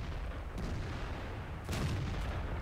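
A World of Tanks tank gun firing a blind shot, likely from a T-21, comes as a sharp distant boom midway through a quiet stretch of game ambience.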